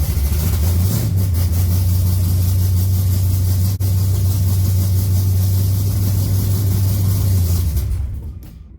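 The engine of a 1980 Trans Am, not yet warmed up, runs close by with a loud, steady low rumble that holds throughout and fades away at the end.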